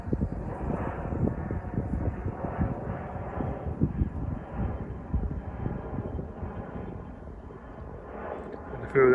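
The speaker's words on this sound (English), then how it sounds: "Another big jet going through." A big jet aircraft passes over a riverbank fishing spot, a broad low rumble that rises and falls with wind buffeting the microphone, and a brief sharper sound near the end.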